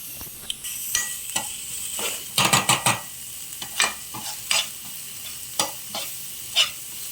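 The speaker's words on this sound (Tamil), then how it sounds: "இதெல்லாம் நல்லா போட்டு நல்லா வதக்கிட்டு கொஞ்சம் நல்லா ப்ரௌனிஷாக வர வரையும் வதக்கிக்கணும்" Ingredients sauté in a pan until brownish, with a steady sizzle under repeated sharp stirring scrapes and a quick burst of strokes in the middle.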